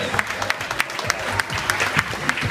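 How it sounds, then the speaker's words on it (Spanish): An audience at an evening event honoring Dr. Juan Pablo Tamayo claps in a sustained wash of applause, individual sharp claps popping out at fairly regular intervals, with low murmuring voices underneath. "Este es el aplauso que se merece mi gran amigo Juan Pablo Tamayo."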